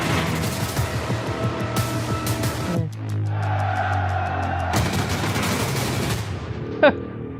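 Naval gunfire from a destroyer in the Greyhound movie trailer: a dense barrage of loud, rumbling blasts fills the opening seconds, gives way to a low, droning hum, then the heavy bursts return, with one sharp, bright crack near the end.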